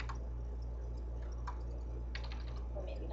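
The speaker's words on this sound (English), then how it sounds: "and I can actually type that in." Short bursts of computer keyboard keystrokes as a value is typed in, light clicks scattered over a steady low hum with no talking.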